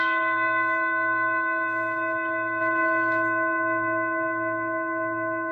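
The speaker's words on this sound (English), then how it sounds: "I'm going to ring the bell one more time" A single meditation bell rings clearly, its bright tone sustaining and slowly fading, with a low steady hum beneath.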